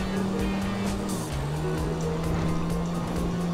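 A Ferrari in the video game GTA V drives with a steady engine drone and a sustained tire squeal, loud and continuous with one short pitch shift, no talking.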